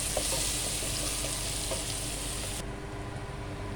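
Onions fry in a pan with a dense, steady sizzle and crackle that runs throughout, loud and close, easing slightly toward the end, with no voices.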